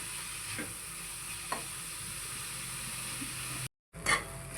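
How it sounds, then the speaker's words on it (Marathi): Sweet modak filling is stirred in a pan over a low flame, giving a soft, quiet sizzle with faint scraping strokes of a spoon. It cuts out briefly near the end, then a louder scrape follows. "मंद गॅसवर आपण हलवत राहूया याला"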